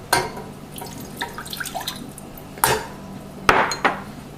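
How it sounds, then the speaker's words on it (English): Water and shortening go into a sauce pot, with close clinks and knocks of utensils against metal, a few drips and splashes, and sharp taps between quieter rustling. "In a sauce pot, add your shortening and your water."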